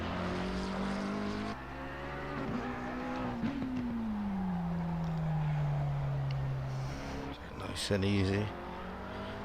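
A GT3 race car in Assetto Corsa Competizione rounds the final hairpin onto the straight at Hungaroring, its engine note droning steadily and falling through the corner before a brief rev, with a commentator talking over it throughout.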